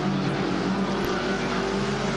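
Race cars roar steadily around an oval track in a continuous, dense engine drone with no distinct passes, loud and unbroken throughout.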